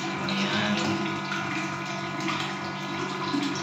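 A motor pump pulling water into a large storage tank, a loud, constant rushing flow with a steady mechanical hum beneath, close by and unbroken.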